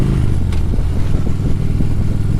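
A motorcycle is under way with its engine droning loudly and steadily, and heavy wind rush sits close to the rider. No one speaks.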